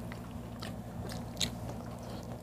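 Biting into butterfly chicken during a mukbang, with a few close crunchy chewing and biting sounds over quiet background.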